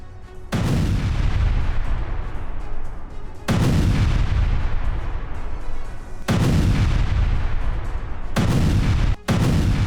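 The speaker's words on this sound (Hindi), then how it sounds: "यूक्रेन की 40वीं ब्रिगेड बटालियन ने रूसी सेना पर हमला किया।" Heavy artillery fire in Ukrainian war footage of the 40th Brigade attacking Russian forces: four loud, close blasts, each a sudden boom followed by a long rumbling roar, with a brief sharp crack near the end.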